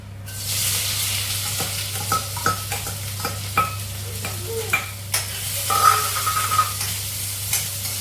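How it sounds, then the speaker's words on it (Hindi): Onion, garlic and green chilli sizzle in hot ghee in a pan, a steady close frying hiss broken by repeated scraping clinks of a stirring spoon, with no talking. "तो मैंने इसमें डाला है घी और अब मैं इसमें डालूंगी अनियन, गार्लिक और हरी मिर्च"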